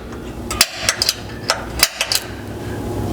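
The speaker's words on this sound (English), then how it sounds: "So we'll start by center punching this hole." A quick series of sharp metallic hammer taps, about eight or nine close strikes in uneven bursts, loud and nearby, as a center punch marks a hole in metal for a 5th gen Toyota 4Runner slider install.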